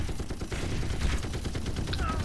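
Automated turrets in The Red Solstice fire a rapid, continuous stream of shots, dense and sustained, with other battle noise mixed in.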